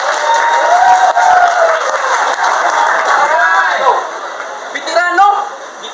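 A crowd at a Cebuano rap battle league event cheers and applauds loudly and steadily, with whoops and shouting voices rising over the clapping throughout.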